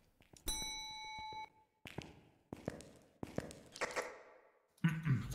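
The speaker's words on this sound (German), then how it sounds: "wie so eine Bimmel, wie so am Empfang" A reception desk bell rings once with a clear sustained ding, followed by several duller taps and knocks on a table, fairly quiet and close.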